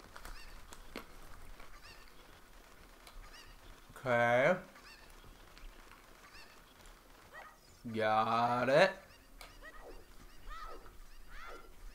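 Two loud, harmonic cackling calls from a chicken in Ocarina of Time, one short burst and a longer squawking run a few seconds later, over quiet game ambience with a voice speaking briefly.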